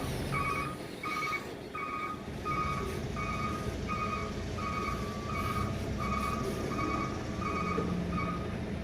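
A truck's backup alarm beeps in a steady, evenly spaced rhythm over a low engine rumble, moderately distant and continuous throughout.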